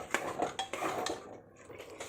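Beef biryani stirred in a pot after curd is added, with close clinks and scrapes of a spoon against the metal pot in quick bursts, then a quieter pause.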